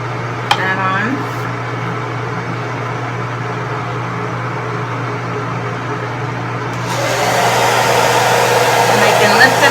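An Xtava Black Orchid hair dryer with diffuser runs as a steady close whoosh and hum that swells louder partway through, with a person talking over it.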